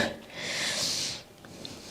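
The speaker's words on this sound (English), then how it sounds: "Sorry about my sniffing." A single long, breathy sniff drawn in through the nose from sinus irritation, close and fairly loud, followed by a quieter pause and a faint second intake.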